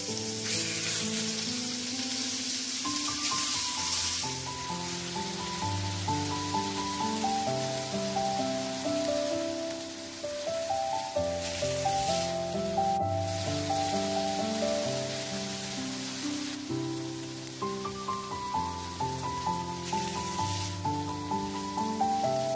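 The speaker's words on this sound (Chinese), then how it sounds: "简单的铺设上石板，放置上肉排，开始煎了起来" Meat steaks sear on a stone slab over a campfire, giving a soft, steady sizzle and spatter. The frying stays low under prominent melodic music throughout.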